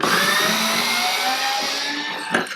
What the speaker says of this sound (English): I just need to get my power driver